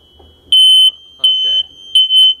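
Interconnected smoke alarms in a condo complex chirp three times in long, piercing beeps during a false alarm, with short gaps of quiet and faint speech between them.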